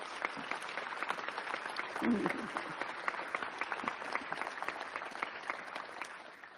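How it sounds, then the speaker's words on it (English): Applause from an audience at an agency event held in Union Station, a broad, even round of many hands clapping that carries on steadily for several seconds at moderate distance. "we need to give both of them another round of applause"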